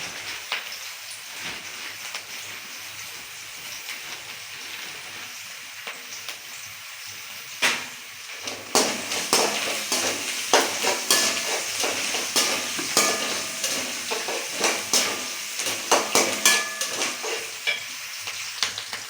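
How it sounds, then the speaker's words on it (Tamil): Curry leaves hitting hot oil in a pan for a soya chunk (meal maker) curry, a soft steady sizzle that turns louder and crackly about halfway through, with sharp popping spatters that continue to the end; no talking. "அது கூடயே ஒரு கொத்து கருவேப்பிலை போட்டுக்கலாங்க"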